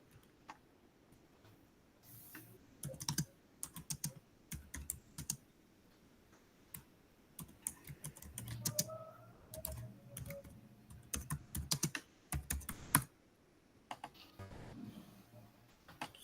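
Computer keyboard typing in uneven bursts, quick clusters of key clicks separated by short pauses, fairly quiet and close with a faint background hum.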